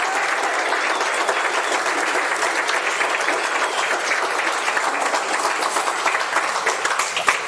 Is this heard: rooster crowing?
no